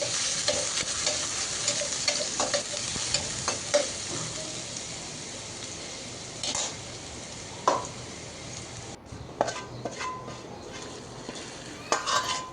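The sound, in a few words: dal tempering: garlic, dried chili, onion sizzling in oil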